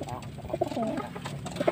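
Pigeons coo in soft, rounded bursts close by, repeating several times while someone talks over them.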